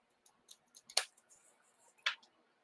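Scissors snip through paper to cut a small diamond shape for the top of a graduation cap card topper, with two sharp close cuts standing out among lighter snips and rustles.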